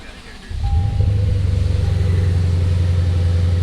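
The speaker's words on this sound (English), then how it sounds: "somebody wants to hear me rev this car" A car with an aftermarket exhaust revs up: a quiet start, then a deep, throaty rumble jumps in after half a second and holds loud and steady, with pulsing exhaust note close by.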